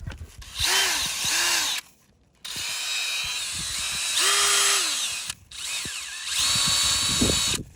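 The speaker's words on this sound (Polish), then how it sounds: "No i taka szczotka na wiertale." A power drill with a wire brush attachment runs in three bursts, scrubbing against a hard metal surface, a Peugeot 106 engine part, with a harsh, hissing rasp, close up.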